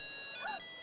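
A cartoon phone ringtone for an incoming call: a short electronic tone with steady high harmonics and a brief warbling chirp in the middle, heard alone for under a second.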